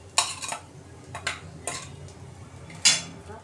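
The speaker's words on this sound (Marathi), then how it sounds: "आता आपण भेंडी मसाला काढून घेऊया डिशमध्ये" Tawa bhendi masala fry is scooped from the pan into a dish with a metal spoon, making a few sharp clinks and scrapes against metal over a quiet background.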